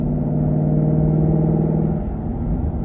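A Ford Mustang GT with an Armytrix exhaust cruises in sixth gear at about 50: a steady, low engine drone with a deep exhaust rumble, even pace without revving, loud and close throughout.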